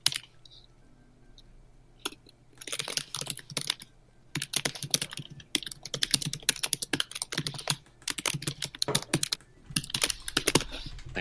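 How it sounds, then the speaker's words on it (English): Rapid, uneven typing on a computer keyboard, bursts of close clicking keystrokes with short pauses between them, alone without talk. "I hear a lot of typing going on."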